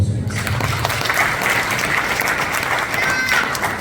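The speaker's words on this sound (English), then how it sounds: "Big round of applause." Audience at a community farewell event held by the Indian Cultural Centre in Qatar bursts into sustained applause, dense and steady clapping filling the room for several seconds, with a faint voice near the start.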